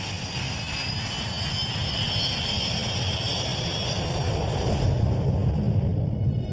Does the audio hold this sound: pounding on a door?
no